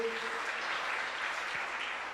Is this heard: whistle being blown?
no